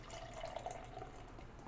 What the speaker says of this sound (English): just listen to that pour.